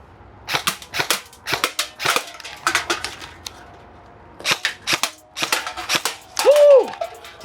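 Airsoft gun firing at targets in a timed drill, first with the dominant hand and then the offhand: sharp cracks in quick bursts with short gaps between strings, near and loud, ending with a brief whoop.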